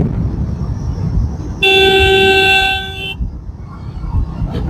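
A vehicle horn blasts once for about a second and a half on a narrow village road, loud and close, over a rumbling engine and wind noise from a moving motorbike.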